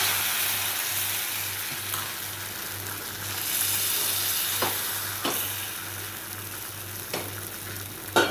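Malpua frying in oil in a pan, a continuous close sizzle and crackle with a few louder pops and spatters, a steady low hum underneath and no voices.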